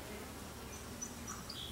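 Honeybees at a top bar hive buzz in a faint, steady hum, with a few individual bees passing close by near the end.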